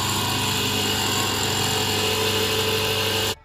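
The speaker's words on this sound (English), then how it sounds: "starting my lathe machine" A lathe runs steadily as a magic wheel cuts a design into a ring, giving a loud continuous motor whine and whir that cuts off abruptly at the end.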